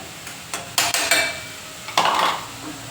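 Ground onion, tomato and fresh coconut masala is fried in a pan, marked by a handful of metallic clinks and scrapes from a utensil stirring against the pan, fairly close and moderately loud.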